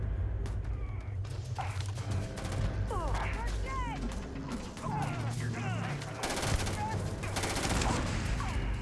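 Rapid bursts of gunfire from a new gun in the video game Starfield crackle repeatedly over game sounds and chirpy effects, with brief pauses between volleys and talk faintly mixed in.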